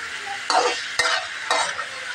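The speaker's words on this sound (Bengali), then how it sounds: "আরও কিছুক্ষণ একটু ভাজা ভাজা হবে" Steady frying sizzle of cabbage in a pan, broken by three stirring scrapes about half a second apart, close by with no voices.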